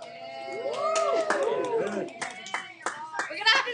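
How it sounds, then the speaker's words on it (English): Classroom applause for a student during an algebra lesson, a short burst of clapping with children's voices chattering over and around it, fairly close. "Everybody give it up for Aiden."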